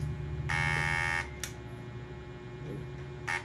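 Electronic beeps from a T230 ETU unit in an airsoft rifle while it is being programmed: a long steady high tone followed by short chirps, heard close over a constant low electrical hum, with no one talking.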